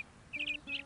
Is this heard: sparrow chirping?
yes